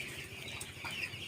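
Brief, fairly faint clucking and rustling of chickens on a poultry farm, scattered soft calls over low background noise, with no talk.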